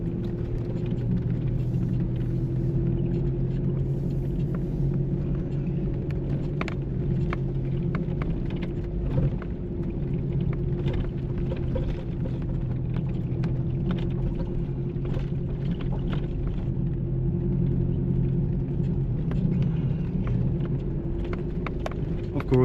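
A 1997 third-generation Toyota Hilux Surf driving in four-wheel drive on a cold day, heard from inside as a steady low engine and road rumble with faint rattles and ticks over the top.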